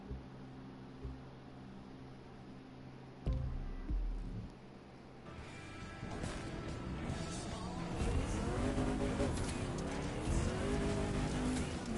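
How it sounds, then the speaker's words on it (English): A car engine in the racing video game The Crew 2 drones steadily, then builds into louder revving and acceleration with some tire noise, continuous and close. "they use the same engine noise."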